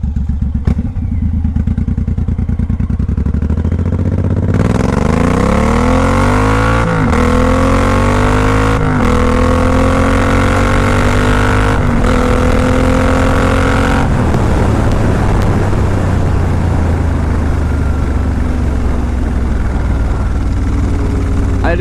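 A 2014 Suzuki M109R Boss cruiser motorcycle accelerates hard through several gears, its engine note climbing and dropping at each shift, loud and close throughout, settling into steady riding with heavy wind rush toward the end.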